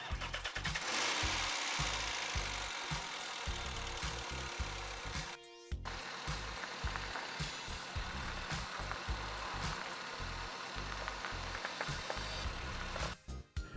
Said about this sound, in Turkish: Sonrasında motoru çalıştırıp direksiyonu sağa sola çeviriyoruz.